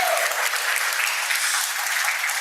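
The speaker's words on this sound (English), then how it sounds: "Please, a round of applause for the African Food Prize here with us." An audience at a science and food prize awards ceremony applauds loudly, a dense, even wash of clapping that runs unbroken through the whole stretch.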